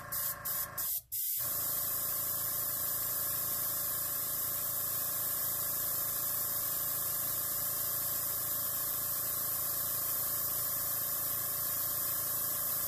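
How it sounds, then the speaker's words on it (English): Airbrush blowing a steady stream of air over an alcohol ink flower petal, a constant close hiss preceded by a few quick clicks at the start. "don't move the airbrush, just continue to blow until the petal is completely dry at the tip."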